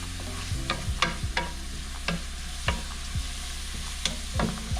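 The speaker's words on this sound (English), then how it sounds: "Stir it up. Let it blend in." A spoon stirs curry powder into beans cooking in a pot for bean katogo, giving repeated scraping strokes against the pan over a low, constant cooking hiss, with no talking.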